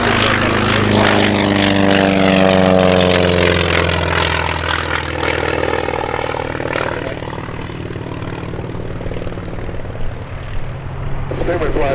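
A propeller-driven military warbird takes off from the runway at the EAA AirVenture Oshkosh 2021 airshow, its engine drone loud and close, pitch sliding downward as it passes and slowly fading.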